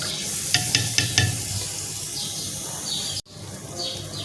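Masala with milk for beef paya frying and being stirred in a pan, a close continuous sizzle with a quick series of spoon taps early on, then a brief break before the sizzling resumes.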